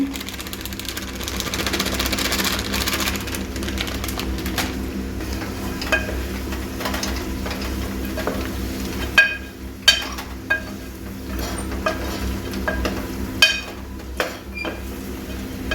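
Chillies sizzling in a pan of chicken feet curry, a steady frying hiss with soft scraping strokes that sharpen into distinct knocks and clinks of the spoon later on.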